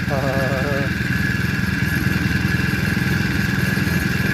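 A cheap Chinese four-stroke outboard motor for a kayak or paddleboard, a knockoff of the Mud Skipper Twist, running close by with a steady low idle hum that sits under talk.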